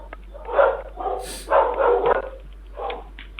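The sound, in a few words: dog barking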